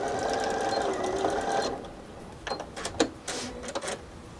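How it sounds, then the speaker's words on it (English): A sewing machine stitches a strap for a McCall's M8091 project out to the fabric edge in a steady run, then stops, followed by a few soft clicks and handling noises. "And then just sew all the way to the edge."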